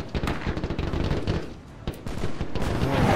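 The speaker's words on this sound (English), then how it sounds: "Taking some heavy fire here." Heavy gunfire in Mount & Blade Warband's Parabellum mod, dense bursts of rifle and machine-gun shots crackling continuously at mid distance, with no talk.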